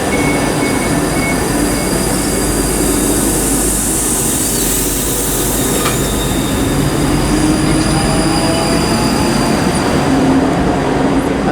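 A ScotRail passenger service pulls out of Haymarket station bound for Helensburgh Central, producing a loud, steady roar of rolling wheels with high-pitched squealing and faint clatter throughout, close by and without talking.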